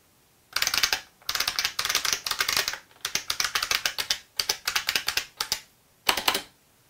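Rapid typing on a 1980s IBM Model F keyboard, with crisp, loud buckling-spring key clacks in fast bursts separated by short pauses, close-up and with no voices.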